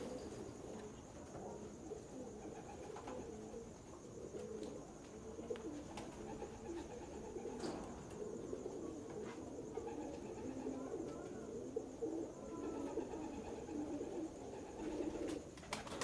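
Pet pigeons coo softly and repeatedly in a quiet rooftop loft, low murmuring calls overlapping at a distance with faint background hiss and no talking.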